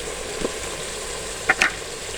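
Minced meat with peas and potatoes frying in a pan: a steady, close sizzle runs throughout, with a couple of brief scraping stirs near the end.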